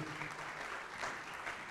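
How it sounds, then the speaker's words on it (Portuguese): A church congregation applauds during a worship service, steady sustained clapping from a crowd heard alone for a short stretch. "Vamos aplaudir mais ao nome de Jesus."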